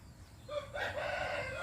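A rooster crows once at moderate distance on a rural Thai farm, a short rising call after a faint, quiet background.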